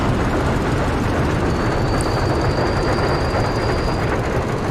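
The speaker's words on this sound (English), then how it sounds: "It's our second locomotive, by the way." Train locomotive in the city-building game Workers & Resources: Soviet Republic, a loud, constant rumble of rolling rail wagons with a thin whine sustained through the middle, no speech.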